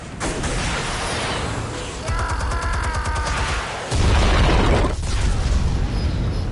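Explosion in Batman: The Telltale Series, a loud continuous booming roar that swells further near the end, with dense rumbling low end and a brief mechanical whir partway through.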